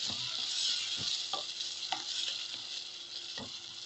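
Food frying in a pan just after water is added, a steady loud sizzle with occasional scraping stir strokes of a utensil, close and with no talking.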